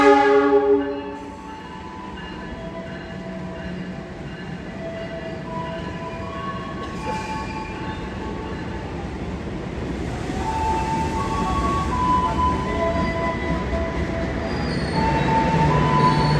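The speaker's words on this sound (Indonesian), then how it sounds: "Jalur satu yang masuk kereta api komuter lain Supas dari stasiun Probolinggo" A Supas commuter train from Probolinggo arriving on track one at Wonokromo station in Surabaya, opening with a loud horn blast, followed by a sustained rumble of wheels and railcars with squealing tones rising as it rolls in.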